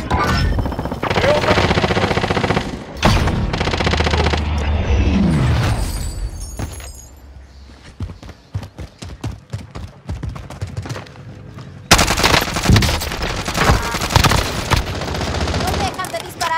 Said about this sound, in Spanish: ¡No dejan de disparar!